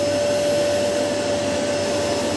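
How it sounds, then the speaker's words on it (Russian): A Samsung SC4326 vacuum cleaner runs steadily during a suction test, a loud, constant motor whine with a fixed tonal hum throughout, close by and with no talk. "Проверяем приблизительно на мощность всасывания. Должен немножко пылесос приподниматься."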